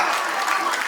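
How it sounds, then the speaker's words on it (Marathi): Loud applause from a crowd at a baby shower, a short dense burst of many hands clapping at once, close and energetic. "जोरात टाळ्या"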